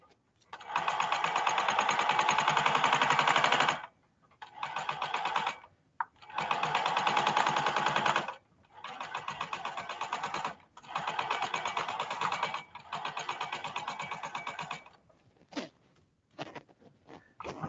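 A sewing machine runs a long gathering stitch along a sleeve: several sustained bursts of fast, even stitching with short pauses between them, close up, no talking.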